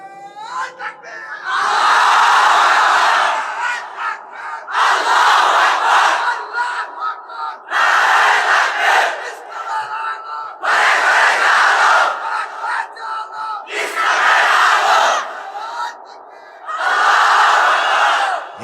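A crowd at an Islamic sermon shouts takbir in unison. Six loud, massed shouts come at regular intervals, each lasting about two seconds, with short pauses between them.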